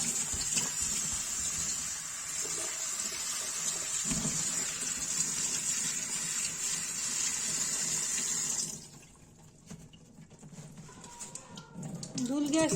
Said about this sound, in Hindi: इसको ठंडे पानी में धो रहे हैं